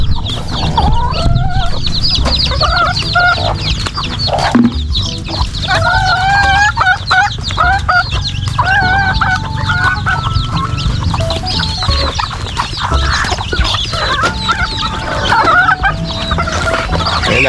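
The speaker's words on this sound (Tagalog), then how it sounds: "Umaga't hapon po pakain ng mga manok." A flock of chickens clucks loudly at morning or afternoon feeding time, with busy overlapping clucks and calls, some rooster-like cries and constant close scratching and rustling.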